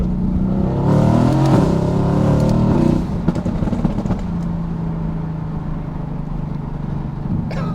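An AMG car downshifted into second gear accelerates hard onto a freeway, its engine revving loudly and climbing for about three seconds before settling into a steadier, quieter cruising drone.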